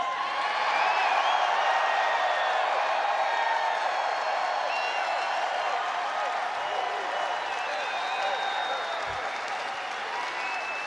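A packed arena crowd at a political rally applauds and cheers steadily throughout, a dense, continuous roar of clapping with scattered whoops.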